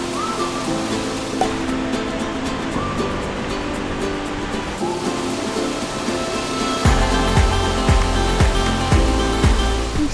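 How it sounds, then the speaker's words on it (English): A large waterfall on a Pacific Northwest trail roars as a steady broadband rush, with low thumping bumps of handling noise near the end and no talk. "I'm actually really glad I did that because the waterfall was beautiful"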